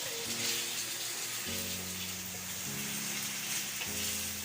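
Minced meat frying in a pan with onions for khara masala keema, giving a steady, fairly quiet sizzle that runs continuously throughout with no talk.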